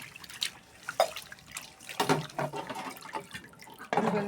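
Water poured over fish being washed with salt in a kitchen, heard as short splashes and drips that come and go in uneven bursts, fairly close and moderately loud, with no talking.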